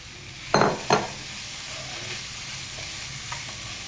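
Grated coconut with ghee is stirred and sautéed in a pan over a low flame, making a steady soft sizzle broken by two brief scraping strokes near the start, with no talking.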